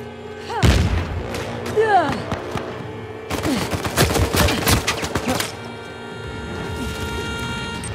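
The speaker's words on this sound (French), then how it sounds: "Je lance une grenade." A grenade thrown and exploding in the video game Uncharted 4, loud booms amid a burst of rapid gunfire, followed by a dense volley of shots, then fading battlefield ambience.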